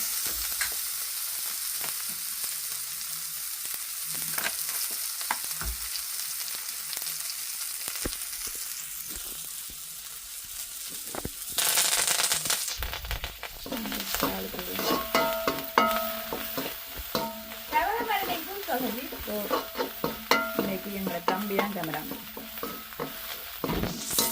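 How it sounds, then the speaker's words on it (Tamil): Crushed onion and curry leaves frying in a pan, a steady close sizzle that turns louder and busier midway as more goes into the hot oil, with stirring scrapes and no talk. "இடிச்சு வச்சுருக்க வெங்காயம் இதோட கருவேப்பில்லை"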